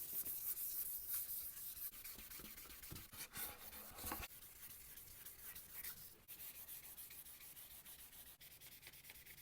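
Fine 3000-grit sandpaper rubbing over a rattle-can guitar finish, a steady close scratchy swishing in continuous back-and-forth strokes with brief pauses, no voices.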